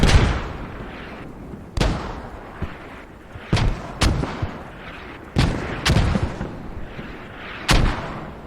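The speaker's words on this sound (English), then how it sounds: "Mortars constantly landing." Mortar shells land repeatedly in a Squad battle, each impact a sharp, loud boom trailing into rumble, arriving in irregular bursts of two or three close together with brief gaps between.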